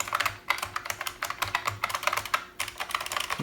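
Someone types fast and steadily on an old IBM computer keyboard, its keys clacking close and crisp in quick bursts with brief pauses.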